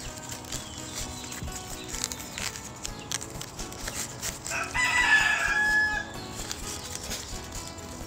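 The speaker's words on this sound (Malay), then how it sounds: "Kucing tangkap ayam pula." A chicken squawks and clucks in alarm as a cat catches it, a loud burst of distressed calls rising briefly over a busy, noisy background.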